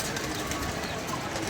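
Pigeons coo softly against a dense, steady background of murmuring noise, close by but partly masked throughout the short stretch.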